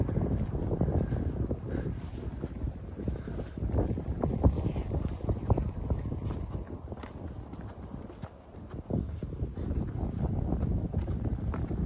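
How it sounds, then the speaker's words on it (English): Steady, heavy wind buffeting the microphone, a loud low rumble with gusts throughout and no clear voices. "And sorry about the wind."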